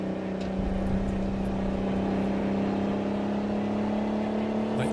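Truck engine droning steadily from inside the cab with a low, even exhaust hum near 1700 RPM, constant and moderately loud with no talking.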